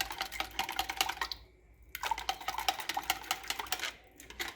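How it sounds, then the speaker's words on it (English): Batter being stirred by hand after one egg is added for homemade donuts, a quick run of close clicking and tapping strokes against the bowl with a short pause midway. "then I will give this a good stir again"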